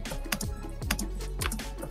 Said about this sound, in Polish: Co ty nam wklepujesz na tej klawiaturze?